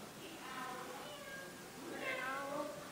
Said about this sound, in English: Well, we got a cat.